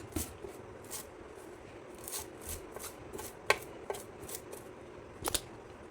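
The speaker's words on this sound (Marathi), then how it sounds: "आता कोथिंबीर चिरते बारीक" A knife chops coriander finely on a board: a quick, uneven series of crisp, close taps and slices, some sharper than others, with no talk.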